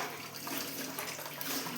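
Water runs steadily into a cooking pot in a home kitchen, a continuous close splashing pour with no talk over it.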